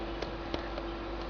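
Cooling fan of a MultiTech MT 2000D switching power supply running with a steady faint hum and whir, a few soft clicks on top, no voices.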